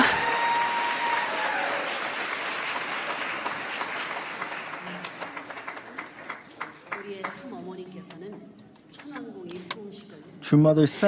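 An audience at an entrance ceremony gives sustained applause that slowly fades out. Scattered claps linger and speech begins near the end.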